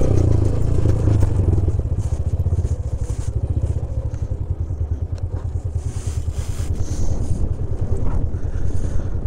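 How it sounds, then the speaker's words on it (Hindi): A motorcycle rides along a centuries-old historic road, its engine a continuous rough drone mixed with rattling clatter and wind buffeting the microphone, steady throughout, with no talk. "लो जी तकरीबन 500 साल पुरानी रोड पे हमने बाइक राइड कर ली"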